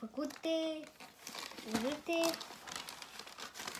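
Christmas wrapping paper crinkles and rustles loudly up close while its corners are cut, with a voice speaking over it.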